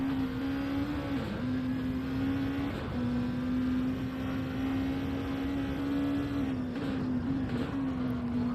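A Nissan GT-R engine drones steadily somewhere behind in Gran Turismo 7 at the Nürburgring Nordschleife, a continuous loud hum with small pitch dips as the car shifts and lifts.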